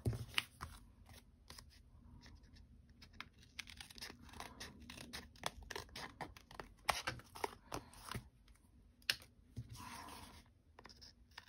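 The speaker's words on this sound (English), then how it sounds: "Let's go ahead and cut the ends off here." Scissors snip the ends off small paper card pieces, giving a quiet, irregular run of short crisp cuts and rustles close up, with small pauses between strokes.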